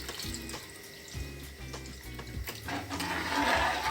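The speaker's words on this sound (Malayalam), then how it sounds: "പിന്നെ ചേർക്കണത് ഈ കക്ക വെള്ളമാണ് കേട്ടോ" Clam cooking water pouring into a pot of clam curry, a steady close liquid splash and trickle that swells louder toward the end, with faint background hum.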